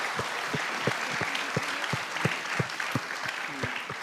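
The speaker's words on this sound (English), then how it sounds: "Let's all raise a round of applause for all our unit secretaries and designees who are here with us" Audience at an annual general body meeting applauding: a round of clapping from a modest crowd with distinct, fairly regular claps close to the microphone, lasting several seconds with no speech.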